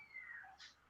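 A cat meows at a door, asking to be let out: a drawn-out, falling meow, then a brief second call, close and fairly faint against a quiet room.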